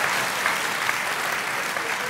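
A comedy show audience breaks into steady, full applause, a dense wash of many hands clapping at a constant level throughout, with a few voices faintly mixed in.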